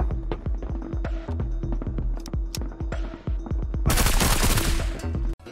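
Rapid gunfire from the video game Marauders, a fast string of close, sharp shots in bursts, with a heavy, louder burst of shooting near the end.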